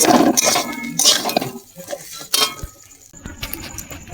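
A home-ground fried spice mix is stirred around a metal pan, making irregular clinks and scrapes that are loud at first and then quieter, with a pause partway through.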